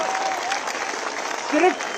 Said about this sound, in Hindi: इसका हम जश्न मनाएं तालियों के साथ